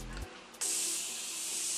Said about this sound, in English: So this is a new Morphe continuous sitting spray